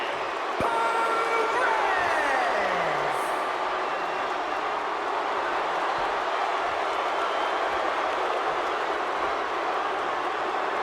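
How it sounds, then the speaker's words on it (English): A loud, steady roar of an arena crowd at a WWE 2K25 SummerSlam wrestling event in the video game, a continuous wash of cheering that fills the whole stretch with a brief whistle-like sweep near the start. "So what a lively crowd we have here this evening"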